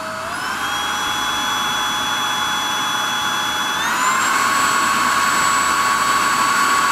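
MOOSOO K23 Pro cordless stick vacuum cleaner running, a loud steady motor whine close by that climbs in pitch at startup and steps up again to a higher power setting, with no voices.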